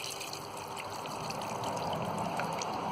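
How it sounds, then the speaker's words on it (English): Rain-barrel water pours steadily into a shallow bee bath dish, a continuous close splashing trickle that holds even for about three seconds with no talking. "fill it with water from the rain barrel."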